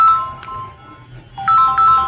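A phone ringtone chimes in a repeating melodic pattern of clear tones, fairly loud and close, with a short pause before the tune picks up again.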